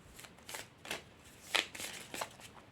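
Oracle des synchronicités oracle cards being shuffled by hand, a quiet run of soft papery riffles and flicks in irregular bursts, close up and without speech.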